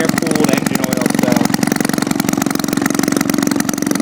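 Close and loud, a Maytag 72 engine runs smoothly at a steady idle, its rapid regular putter continuing while people talk over it.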